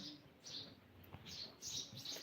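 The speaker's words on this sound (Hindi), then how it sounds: "आपको सुनाई देता होगा ना आवाज़ चिड़िया की" A small bird chirps in short high bursts, repeated several times, faint and somewhat distant over a low background hum.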